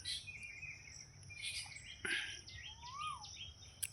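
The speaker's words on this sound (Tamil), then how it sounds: "பறவைகள் சத்தமும் கேட்கும்" Several birds chirp and whistle in short, scattered calls against a soft outdoor hiss, with one clear rising-and-falling whistle near the end.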